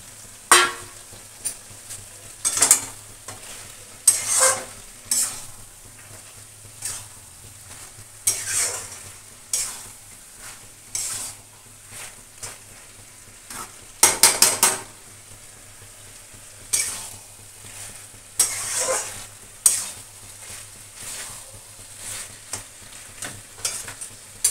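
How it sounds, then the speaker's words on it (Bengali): Fried potatoes are stirred into a simmering yogurt curry in a pan, a repeated rhythm of close scraping, stirring strokes over a soft, steady sizzle. "আর ভাজা আলুগুলিও দিয়ে দিচ্ছি।"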